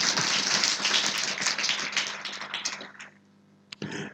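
A church congregation claps for themselves in a dense, loud burst that lasts a few seconds, then thins out and stops, with one last stray clap after.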